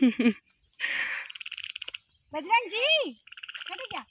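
A frog croaks in repeated bursts of rapid pulsing calls, close and clear, with a person briefly speaking between the croaks.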